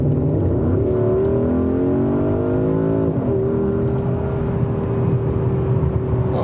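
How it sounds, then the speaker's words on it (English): A Porsche Cayenne Turbo Coupé accelerates hard on a woodland road, its engine note climbing steadily through the gears with a brief dip at a shift, loud and continuous with no talking. "You can enjoy the sound once more and this acceleration together with us."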